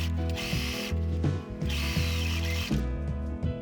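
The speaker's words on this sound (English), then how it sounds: "Sew the top of the pocket." Sewing machine stitching the folded top of a fabric pocket, a close mechanical whirr in quick repeating bursts with a rhythmic clatter, pausing briefly between runs.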